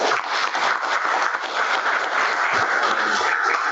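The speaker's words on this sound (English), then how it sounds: "we will do a round of applause to all the speakers today" Applause from an online science workshop audience for the day's speakers, a steady wash of clapping with no gaps and no talk over it.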